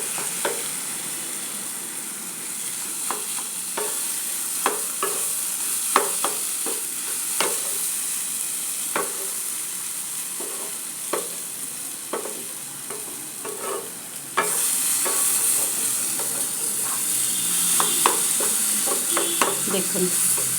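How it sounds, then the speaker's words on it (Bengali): Grated mango is stirred in oil in a frying pan, giving a steady close sizzle broken by frequent scraping stir strokes. The frying hiss grows louder near the end, and there is no talking. "আর যেহেতু এটা কোরানো আম, তাই বারে বারে নাড়তে হবে।"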